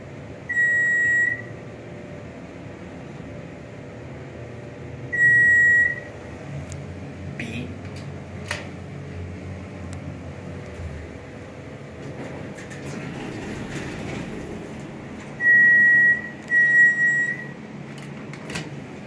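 A hydraulic elevator running in the Lake County Building parking garage in Minnesota gives a steady low mechanical hum throughout, with several short electronic beeps or chimes at the start, middle and end.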